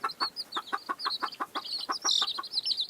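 A mother hen out in the grass with her chicks gives a rapid series of short, close clucks in an irregular rhythm, mixed with high thin peeping from the chicks.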